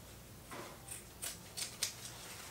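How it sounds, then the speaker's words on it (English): Scissors snip along the seam allowance of a sewn fabric yoga bag, a run of short, crisp, fairly quiet cuts spaced about every half second, with no talking. "I'm just gonna trim that seam allowance consistently all the way around"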